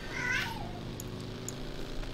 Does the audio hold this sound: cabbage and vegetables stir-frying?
no